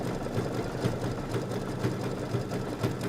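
An embroidery sewing machine stitches with 40 weight thread, its needle tapping in a steady, even rhythm at a moderate distance under a soft mechanical hum, with no voices.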